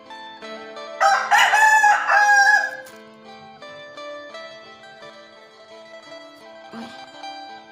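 A rooster gives one loud, nearby crow lasting a couple of seconds, then fainter harmonic calls and clucks trail off in an otherwise quiet setting.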